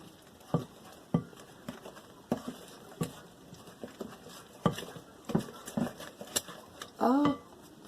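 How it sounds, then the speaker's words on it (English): Someone stirs Amish friendship starter batter in a bowl, quiet and close, with a series of soft scraping taps against the bowl and a brief clatter near the end. "I'm just going to stir it together here."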